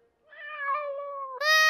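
A cartoon cat gives a drawn-out, tonal meow that rises in pitch and brightens into a higher, louder cry at the end, heard clearly with nothing else around it.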